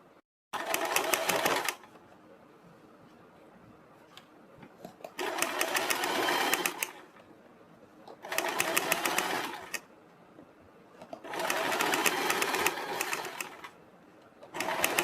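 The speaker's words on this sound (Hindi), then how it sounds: "तो हम दूसरी साइड की पट्टी पर भी सिलाई लगाएंगे" A sewing machine stitching a strip onto a neckline, running in four clear bursts of rapid, close clatter separated by quieter pauses, with no talk.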